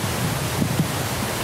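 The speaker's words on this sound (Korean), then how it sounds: "이 잎들 사이로 부는 이 바람 소리만 들어도" Wind blows steadily through bamboo leaves along a quiet walking path in Jeju, making a dense, broad rustling hiss. A couple of soft low thumps sound beneath it.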